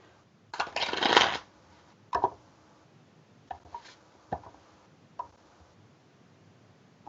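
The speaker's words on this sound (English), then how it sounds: "I use a push through shuffle, so I'll show you what that looks like first of all." Playing cards run through a push-through shuffle, a loud riffling burst near the start followed by several short, separate card snaps and taps, close up against a quiet room.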